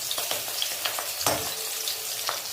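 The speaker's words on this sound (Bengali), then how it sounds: "আস্তে আস্তে বড়াটা ভালো করে ভাজতে থাকুক" Fish roe fritters frying in oil over medium heat, a steady close sizzle with bursts of crackle and a few soft scrapes of a spatula, no voices.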